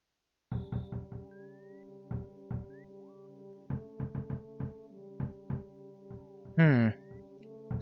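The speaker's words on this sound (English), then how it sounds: "Someone's knocking at the door!" Repeated knocking on a door in the EarthBound video game, sharp synthesized knocks in quick bursts of three to four with short gaps, followed by a brief rising game chime.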